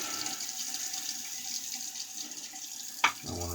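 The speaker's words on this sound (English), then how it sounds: "I want to rinse all the soap off of it" A tap runs steadily as soap is rinsed off a single-edge safety razor, water hissing into a sink, then a brief clatter near the end as the razor is handled.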